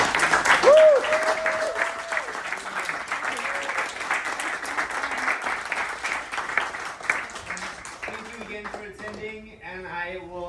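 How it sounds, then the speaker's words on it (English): Audience at a film festival Q&A applauds the filmmakers, a steady round of clapping that fades after about eight seconds as voices and chatter take over. "Another big round of applause for"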